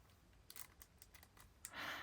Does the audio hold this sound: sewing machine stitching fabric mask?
no